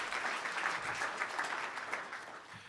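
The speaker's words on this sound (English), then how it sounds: "So give yourselves a round of applause," An audience at a port authority's State of the Ports event applauds, a soft, steady wash of clapping heard from within the room.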